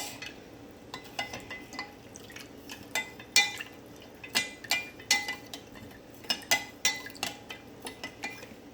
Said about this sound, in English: Let's mix out all of this